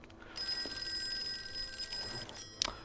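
Phone ringing inside the Call of Cthulhu horror game: a continuous shrill bell tone sustained for about two seconds against quiet ambience, ending with a brief click.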